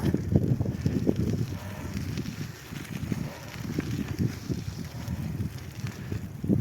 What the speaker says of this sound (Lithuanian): Jau čia vėjas, čia jau vėjas.